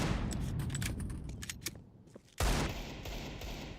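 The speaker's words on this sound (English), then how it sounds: "Just hits a ridiculous headshot onto Glowing." Counter-Strike gunfire during a playoff match, with rapid automatic bursts and scattered shots, a short lull, then a sudden loud blast of fire and continued shooting.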